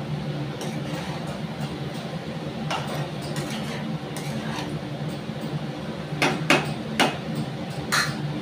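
Metal spoon clinks and scrapes in a pan while shrimp curry is stirred, a handful of sharp taps clustering toward the end over a low kitchen hum.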